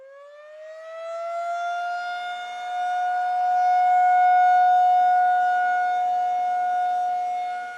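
A civil defense siren wails in one long rising and sustained tone, loud and steady with a slight swell midway, heard alone without voices.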